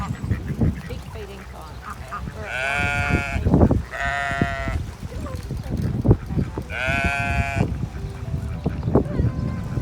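Sheep bleat on Walter Peak farm near Queenstown, New Zealand, three distinct loud wavering calls close by, over a busy background of murmuring voices and outdoor farm noise.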